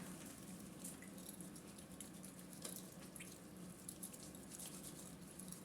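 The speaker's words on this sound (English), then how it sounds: "we're going to first of all wash our hands" Tap water runs steadily into a sink during hand washing, a faint, continuous splashing with small drips and clinks, heard from some distance with no talking.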